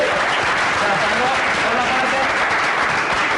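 An audience gives Pablo a round of applause at a talk about punk in Venezuela, a loud and dense wash of clapping that fills the room at a constant level, with voices mixed in.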